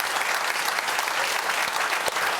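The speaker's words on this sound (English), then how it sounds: "Big round of applause." A TV studio audience applauds loudly and steadily, dense clapping filling the room throughout with no voice above it.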